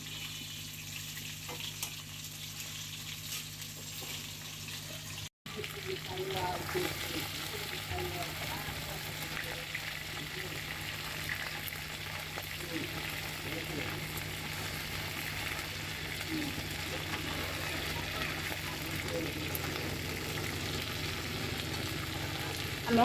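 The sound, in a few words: hilsa fish lightly frying in a pan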